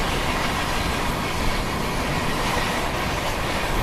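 An Indian express train, the Ranchi Rajdhani, runs along the rails with a loud, steady, close rumble and broadband rattling noise from inside the moving train, with no break.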